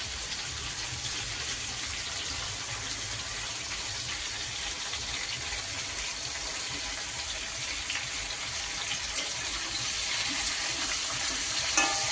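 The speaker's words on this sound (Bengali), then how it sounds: "এবারে এগুলোকে একটু ভেজে নেব।" Pieces of tilapia fish sizzle steadily in hot oil, a bright, continuous crackling hiss that holds close and even throughout, with no talking.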